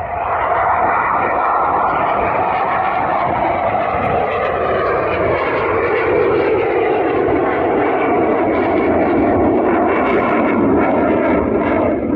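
A loud, steady jet engine roar fills the whole stretch, its rumbling pitch slowly sliding lower as the training jet passes overhead near an RAF air base in England.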